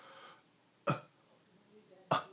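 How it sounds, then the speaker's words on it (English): Two short, sharp throat-clearing bursts like a cough being prepared, a vocal demonstration of readying to cough with the chest pressed by the breath, spaced about a second apart with quiet breathing between. "the first one I did was the what I call the cough prep. You're preparing to cough,"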